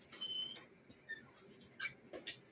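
A dog whimpers and yips in short, thin bursts during treadmill training, with a longer whine at the start followed by several brief, quieter cries spaced apart.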